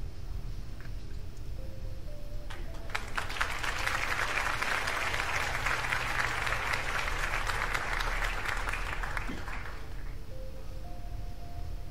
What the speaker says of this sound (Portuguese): Se aplaude ela aí, Zé.